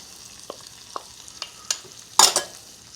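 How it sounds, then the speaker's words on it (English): Onions and peppers going into a cast iron pan at medium-high heat, a faint low sizzle with a few soft scrapes and taps, then a brief louder clatter near the end, with no voices. "Okay, so we've got our cast iron pan going. I'm going to dump the onions in it."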